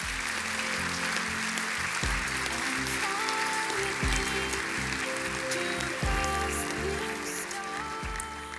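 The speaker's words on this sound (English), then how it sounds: "please give a round of applause to all of the awardees for 2019" Sustained dense applause from a large audience at an international space congress closing ceremony, steady and full, with music playing underneath throughout.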